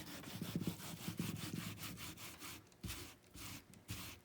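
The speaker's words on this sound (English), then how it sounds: "More rubbing this off with your hand." A hand rubs wet paper off an image transfer, giving steady rhythmic scrubbing strokes, close and fairly quiet, that slow and thin out toward the end.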